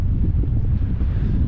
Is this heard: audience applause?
no